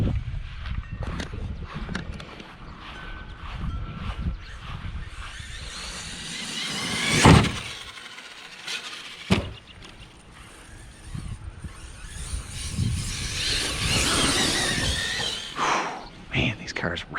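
An Arrma Talion XL RC car with a Hobby Star 4082 brushless motor of about 1600 kV tears around, its motor whining and drivetrain rattling with a sharp clatter midway, while someone talks over much of it outdoors.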